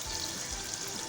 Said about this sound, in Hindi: अब हम इसमें पानी ऐड करेंगे, बिल्कुल ज़रा सा ऐड करेंगे।